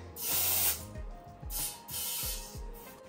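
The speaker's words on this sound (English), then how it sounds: "So, all right, we're gonna give it a squirt." Several loud, close bursts of spray squirted onto the bead of a go-kart tire, each hiss lasting about half a second with short pauses between, alone without talk.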